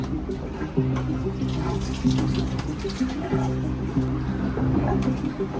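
Water gushes into a flooding shower in the master cabin of a yacht at sea, a steady loud rush over a low droning hum.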